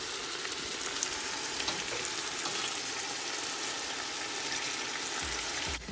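Fish soup base simmering and sizzling steadily in a pot, a continuous close, even bubbling hiss with no talk that cuts off abruptly at the end.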